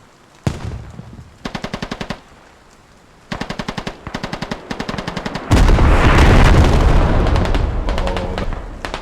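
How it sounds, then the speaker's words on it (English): Heavy gunfire and artillery in a 50-versus-50 online war game on the Skorpo map: loud, close bursts of rapid automatic fire in quick rhythmic strings, then a sustained roaring barrage of booms and explosions rolling on. "Oh, that's a nice barrage."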